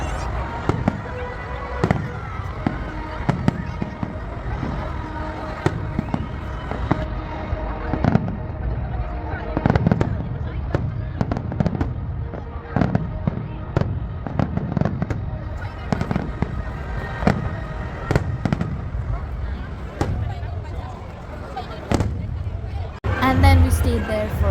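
A New Year fireworks display in Dubai crackles and booms with rapid, irregular bursts, some sharp and near, others duller, over a murmuring crowd with scattered voices throughout.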